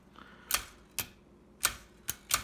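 A 1900 Densmore 4 typewriter types in extended spacing mode, giving five sharp, separate key strikes at uneven intervals, close and crisp against a quiet background.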